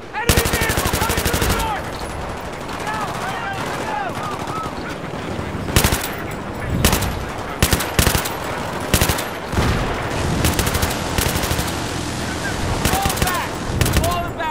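A light machine gun in Battlefield 3 fires long, loud rapid bursts, dense and continuous at first and then in choppier volleys with other gunfire and game noise around it, while a voice talks over the shooting.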